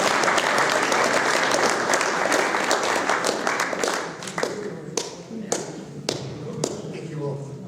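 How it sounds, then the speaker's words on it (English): An audience at a centenary celebration presentation gives a round of applause, with dense clapping at first that thins out into a few scattered, separate claps. "just another round of applause for Bernie and his family."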